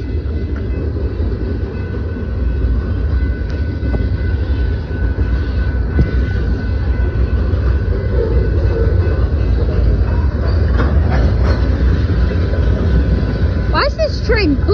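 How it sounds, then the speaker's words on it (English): A train speeds past close by with a heavy, continuous rumble of wheels and cars that stays loud throughout, while people talk over it. "Why is this train booking it?"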